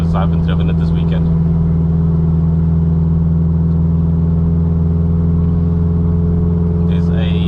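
A straight-piped 1.8T Mk2 car drums along at a steady, loud cruise with a constant low exhaust hum inside the cabin, and a voice is heard briefly.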